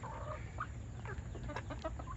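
Backyard chickens, including young pullets and a cockerel, give several soft, scattered clucks over a steady low background, faint and somewhat distant.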